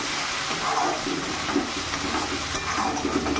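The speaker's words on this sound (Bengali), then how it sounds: "জিরে গুঁড়ো ধনিয়া গুঁড়ো মশলাটাকে একটু কষিয়ে নেব ভালো করে" Cumin and coriander powder masala frying in oil in a pan, a dense steady sizzle with faint stirring scrapes, close and continuous with no talk.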